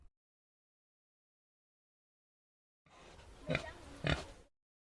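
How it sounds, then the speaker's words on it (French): After a long silence, pigs grunt close by in a short burst of two loud, rough snorting oinks over a low rumbling noise. "s'en alla chercher les 2 cochons ventrus"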